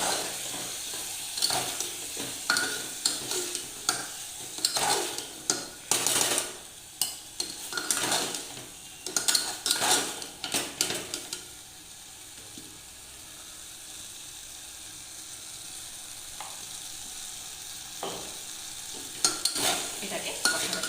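Chicken curry being stirred and sautéed in a pan over medium flame, with repeated scraping and clattering strokes of a spoon against the pan over a soft sizzle, busy at first and then easing into quieter frying.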